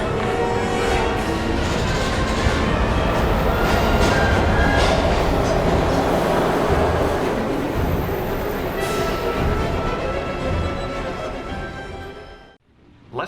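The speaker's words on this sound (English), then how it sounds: "We've got to get on that train, Ethan." A passenger train in the video game Heavy Rain rolls past with a dense, steady roar of wheels and carriages that stays loud and close for most of the run, then drops away abruptly at the end.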